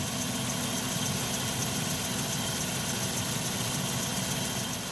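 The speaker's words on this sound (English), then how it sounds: "fast idle slowing down" A 2014 Chevrolet Silverado engine at fast idle drones steadily, a dense, constant rumble with a broad hiss, heard close and with no obvious change in level over five seconds.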